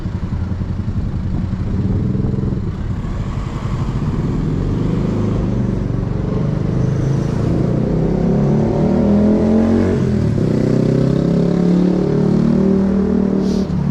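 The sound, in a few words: car with loud exhaust accelerating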